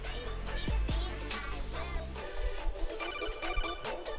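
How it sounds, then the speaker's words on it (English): A ringtone-like electronic alert, the codec call sound from the video game Metal Gear Solid, sounds faintly in a repeating pattern over low rumbling background noise, with no talk. "You hear this noise right here? It's the codec from Metal Gear Solid."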